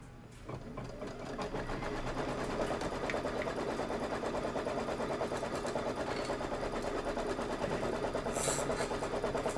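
An embroidery machine stitching the placement line for background fabric over batting, a steady rapid mechanical whir running continuously and close at even loudness throughout.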